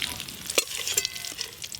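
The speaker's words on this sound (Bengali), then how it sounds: "লাউ চিংড়ির জন্য চিংড়ি মাছগুলো একদম লাল লাল করে ভেজে নিয়েছি" Shrimp frying in hot oil for a Bengali gourd-and-shrimp dish, a steady close sizzle with occasional stirring clicks and spatter pops, no voices.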